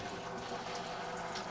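Engine coolant draining steadily out of a loosened lower radiator hose valve, a continuous, even liquid splashing and trickling heard alone at close range.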